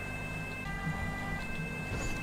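A police car siren in the video game GTA wails steadily in the background with a rumbling engine underneath, no talk over it.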